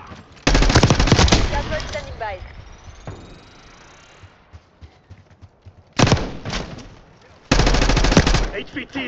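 Loud, close machine gun bursts in a video game: a long volley, a quieter stretch with scattered shots, then two more heavy bursts near the end.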